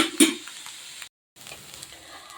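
Beans and carrot for a Kerala thoran being stirred in a pan, with a sharp scrape near the start and a soft, quiet sizzle that drops out briefly before the stirring resumes.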